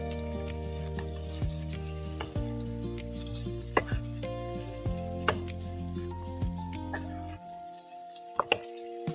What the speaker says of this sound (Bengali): প্রথমে করলাগুলি ভালো করে ধুয়ে একটু হালকা একটু ভেজে নিচ্ছি।